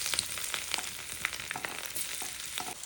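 Garlic dropped into hot oil already tempered with mustard seeds, niger seeds, asafoetida and turmeric, crackling and sizzling steadily with scattered sharp pops and spatters up close, no voices.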